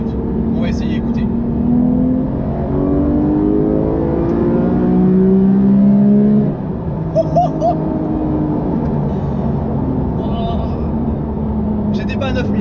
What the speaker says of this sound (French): Et là on va profiter des 9000 tours minute.